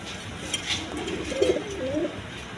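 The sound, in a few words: pigeons cooing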